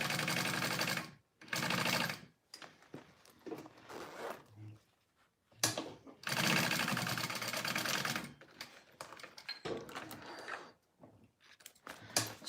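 Sewing machine stitching a seam on a Ludlow wristlet, running in several loud bursts of rapid needle chatter separated by brief pauses, close and clear with no voices over it.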